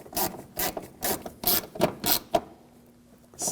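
Ratcheting clicks in a run of about eight short bursts as the fasteners on a fog light assembly of a 2007-2013 BMW 328i are tightened, close and fairly loud, then a pause and one final click.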